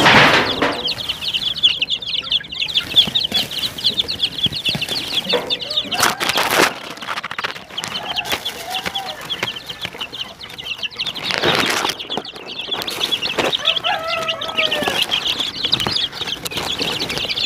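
Backyard chickens grown from incubator chicks cluck steadily and loudly while being fed, with scattered wing flaps and a few sharper calls over a continuous farmyard din.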